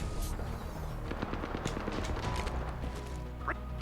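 Rapid automatic gunfire in the battle-royale shooter Apex Legends, bursts of machine-gun shots rattling in quick succession at moderate distance, followed by a few sharper isolated cracks.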